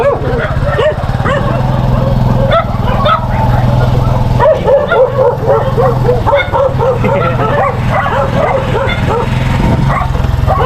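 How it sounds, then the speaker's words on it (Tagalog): Several dogs bark and yip continuously nearby, overlapping with each other, while a person talks over the noise. "Daming aso dito."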